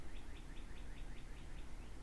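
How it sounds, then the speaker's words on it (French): A bird repeats a short chirping phrase about seven times in a steady rhythm, faint and distant over a low ambient rumble. "j'adore le son des oiseaux"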